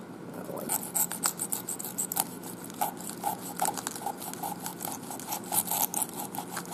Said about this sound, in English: I'm trying to saw through areoles and spines